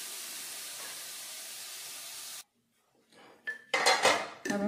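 Gujhiya filling with sugar is stirred in a pan; a steady hiss cuts off abruptly, and after a brief silence, close metallic scraping and clattering of a spoon against the pan take over.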